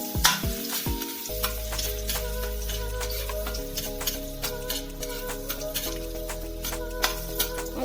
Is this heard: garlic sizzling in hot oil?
yes